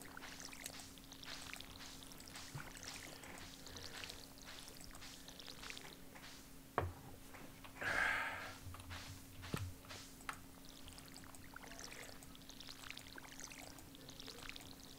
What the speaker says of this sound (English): Is there a hole in the bottom of my watering can?